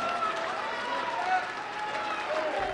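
A crowd of a couple hundred protesters in Harlem, gathered on 125th Street, claps and cheers in a dense, steady patter throughout, with a voice speaking over it.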